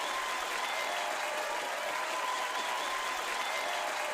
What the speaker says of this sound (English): The cheering is really loud compared to how it normally happens.